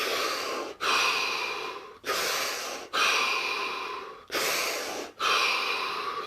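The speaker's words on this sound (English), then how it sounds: "We're going to take 5 deep breaths followed by 60 seconds of absolute stillness and silence." Five slow, deep breaths taken one after another during a stillness exercise, each a long airy inhale or exhale close to the microphone, separated by brief pauses.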